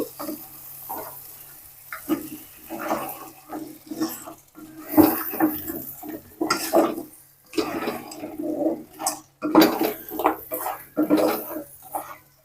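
Crabs being mixed with masala in a pot, producing close, repeated scraping and clattering of a ladle against the pot along with wet squelching, continuous and fairly loud.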